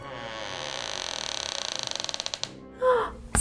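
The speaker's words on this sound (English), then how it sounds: "Then they heard the door again." A door creaks open slowly. The drawn-out groan breaks into quickening ratchety clicks and ends with a short thump, heard alone and close.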